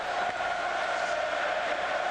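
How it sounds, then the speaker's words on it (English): A hockey arena crowd jeers goalie Arturs Irbe during the 1995 Detroit versus San Jose playoff game, a dense, steady roar of many voices that holds level throughout without any single clear shout. "the crowd getting on Arturs Irbe again"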